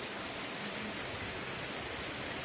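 Heavy monsoon downpour in rural Gujarat, a steady, dense hiss of rain with no distinct drops or breaks, fairly faint and even throughout, with no talking.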